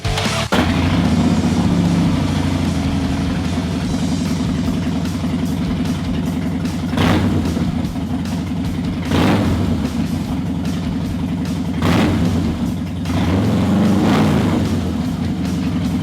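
A Harley-Davidson motorcycle engine idles with a deep, loping rumble, broken by several short throttle blips that swell and fall back, close and steady with no talk.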